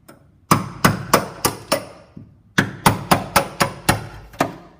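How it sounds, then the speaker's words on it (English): Hammer blows drive a chisel against bitumen sound deadener, landing in two quick bursts of about five sharp, ringing metallic strikes each with a brief pause between, loud and close. "you can get a hammer and a chisel and you can try and chisel it off,"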